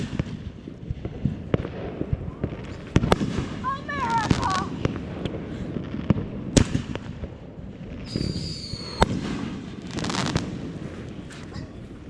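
Fireworks and firecrackers go off at a lake, a series of sharp bangs and crackles at irregular intervals with some whistling rockets, while people shout and talk nearby.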